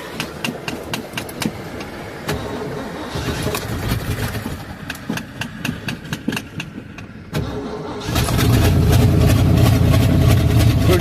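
A snow plow engine cold-starts without choke: rapid, loud cranking bursts repeat for several seconds, stall briefly, then catch and settle into a steady, heavy idle.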